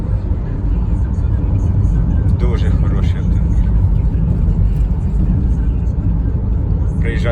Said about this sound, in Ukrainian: Все працює, гарно набирає оберти.